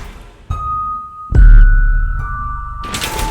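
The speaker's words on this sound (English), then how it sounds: "scary music right now. I don't even know if you can hear it right now," Eerie background music playing during a board game session, sparse chime-like tones and sustained high notes sounding in separate struck phrases with a deep thud midway, no voices.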